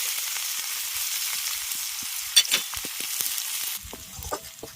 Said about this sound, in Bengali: তেলের মধ্যে আমি একটা শুকনো লঙ্কা আর পেঁয়াজ কেছি